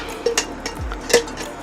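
Metal cooking pots and a lid packed for a long trip are handled, giving a few sharp clinks and knocks close by, with no talking.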